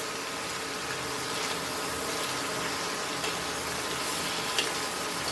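Goan mussels cafreal frying in a covered pan, a constant bubbling sizzle at steady level throughout, close and without any talking.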